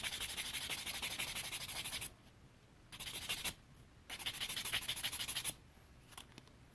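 Sandpaper rubbing over a wooden ring: close, rasping scrubbing in several bursts of about one to two seconds, with short quiet pauses between them and no talking.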